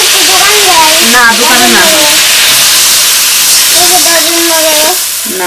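Water is poured into a hot pan of vegetables for a village-style fish curry, giving a sustained hissing steam sizzle under ongoing conversation.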